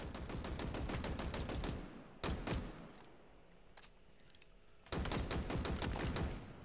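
Rapid bursts of gunfire from a weapon in the video game Halo Infinite, loud and close, with a dense volley, a pause with a few isolated shots, then another sustained burst.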